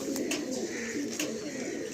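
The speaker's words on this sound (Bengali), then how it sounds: "এই ছাদের মধ্যে সমস্ত পায়রা দাদা ছেড়ে দিয়েছেন" Pigeons cooing on a loft rooftop in Tollygunge, Kolkata, soft repeated throaty coos over a steady low background, moderately close and fairly faint, with no talking.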